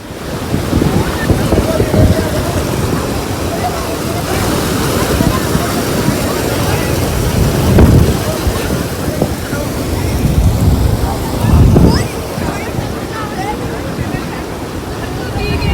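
Floodwater surges through Dausa, Rajasthan, sweeping away a man with his motorbike: a loud, continuous broadband roar with wind buffeting the microphone and heavier surging swells.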